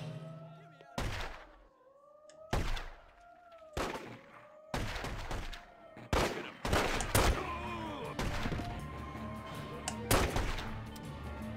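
Gunfire from The Godfather video game comes as a series of sharp, loud gunshots spaced a second or two apart, then grows denser into rapid bursts amid in-game clatter.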